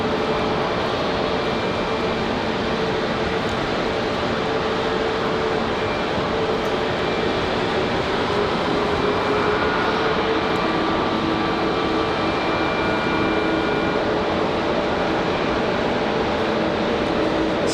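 A Frontier airliner at snowy Raleigh-Durham airport produces a sustained, broad jet engine roar at moderate distance, holding steady throughout with no talking.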